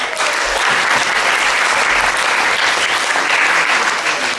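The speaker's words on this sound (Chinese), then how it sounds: "同学再次热烈掌声" Loud, dense, sustained applause from students at a school parents' association gathering greets the association chairman, continuing evenly without pause.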